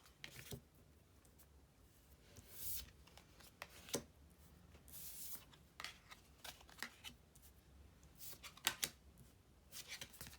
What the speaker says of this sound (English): we'll turn over the cards first